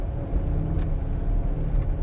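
A 2016 Chevrolet rolls along the road with a steady, close low rumble of engine and tyres and a constant cabin drone, without clear peaks or breaks.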